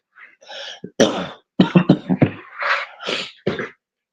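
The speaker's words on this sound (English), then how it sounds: "sorry if I'm coughing too much" A person coughs repeatedly in a series of short, harsh bursts, some close together and others spaced out, loud and near with no speech.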